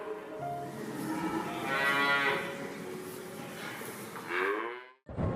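A dairy cow moos in long, drawn-out calls, loud and close, with a second rising moo near the end before a brief cut.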